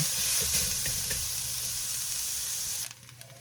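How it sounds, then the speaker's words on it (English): Oil sizzles steadily with a bright hiss as carrots are stir-fried in a pan, the frying noise dropping off abruptly near the end. "since I'm stir frying this carrot"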